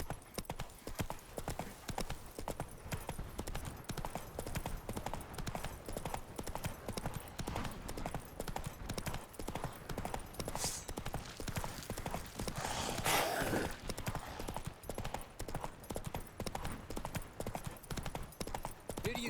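A horse's hooves in The Witcher 3 video game clip-clop in a steady, continuous galloping rhythm throughout, with game ambience and no speech.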